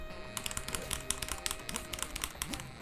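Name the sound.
pressing arrow keys on a computer keyboard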